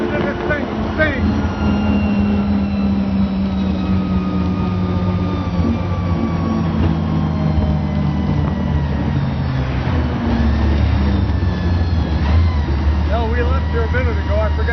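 A big old engine of a 1917 La Bestioni Batmobile rumbles and idles steadily nearby, its low drone continuous throughout, with a voice speaking faintly at moments.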